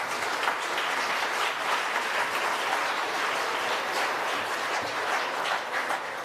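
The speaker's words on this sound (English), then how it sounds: "Please give yourselves a round of applause." An audience at a national architecture awards ceremony applauds, dense sustained clapping from a large crowd filling the space at an even level throughout.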